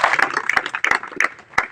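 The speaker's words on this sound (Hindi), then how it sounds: "बाहर से जो अतिथि आए उनका स्वागत करें तालियों के साथ में" An audience at a local event in Hanumangarh claps to welcome guests, giving scattered, irregular hand claps at close to moderate distance with faint voices underneath.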